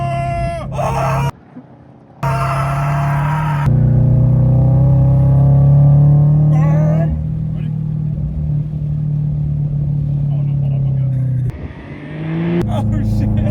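A cheap sports car revs hard while driving, its engine droning loud and close through several gear changes with brief gaps, an occupant shouting excitedly over it.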